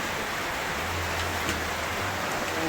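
Heavy rain pours down outside a house in a steady, dense hiss with no break, and a faint low hum runs underneath.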